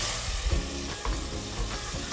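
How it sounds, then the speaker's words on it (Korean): Beef sizzles and crackles as it is stir-fried with chili powder and seasoning, a steady close frying hiss with scraping stir strokes recurring throughout. "고춧가루 2스푼 정도를 넣어주신 다음에 고기와 양념이 잘 어울리도록 볶아줍니다"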